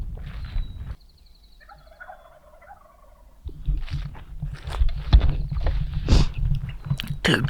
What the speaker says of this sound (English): So there should be at least 4 gobbling turkeys.